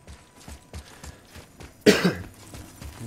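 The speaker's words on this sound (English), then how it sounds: "Excuse me, guys, with the coughing." A person with a cold lets out a single loud, harsh cough, sharp and close, against quieter rhythmic game sounds like footsteps.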